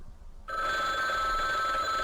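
A telephone rings in the video game Bloodwash, an electronic bell tone that cuts in abruptly after a brief quiet moment and then holds bright and steady at close range.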